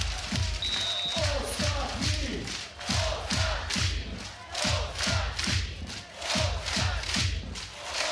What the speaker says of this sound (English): The home crowd are having an absolute party here in Warsaw.